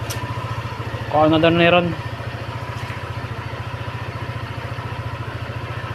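A Honda PCX scooter idles with a steady low engine pulse that runs through the whole clip, and a person speaks briefly over it.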